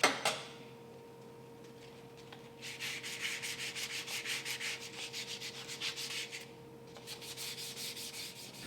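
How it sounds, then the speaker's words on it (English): Hand filing and sanding of a metal wheel spindle with 320 grit emery cloth, heard as steady, close rubbing strokes in repeated bursts with a brief pause, a faint constant hum beneath. "Use a file and 320 grit emery cloth to repair these areas."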